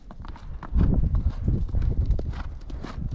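A Palomino horse's hooves clip-clop in a steady, fairly loud walking rhythm close by, with no talking over them.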